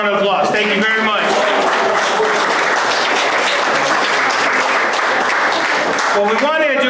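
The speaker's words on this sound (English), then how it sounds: "Give yourselves a round of applause." Loud, dense applause fills a room at a community pancake breakfast, sustained throughout, with voices audible at the start and end.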